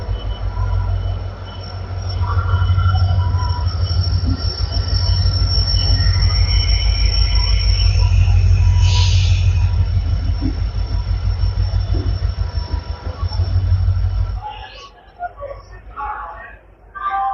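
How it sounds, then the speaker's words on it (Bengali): Falaknuma Express drawing into platform 21 at Howrah's new complex: loud, steady rumble of wheels and carriages with high, sustained squeal of wheels on rail throughout, easing off as the train slows near the end. "ফাইনালি ফালাকনামা এক্সপ্রেসে ঢোকানো হচ্ছে হাওড়ার 21 নম্বর প্ল্যাটফর্মে নিউ কমপ্লেক্সের।"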